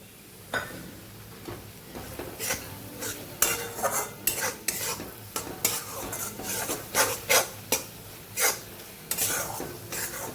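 A spoon stirs and scrapes flour roasting in ghee in a pan for mohanthal, with repeated rhythmic scraping strokes and a soft sizzle underneath, close up and steady.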